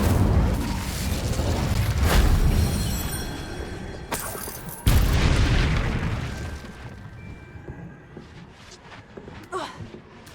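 Hogwarts Legacy's Incendio fire spell goes off in a deep whooshing roar, then a sharp burst hits near the middle. The fiery rumble fades away afterward, with a few smaller crackles near the end.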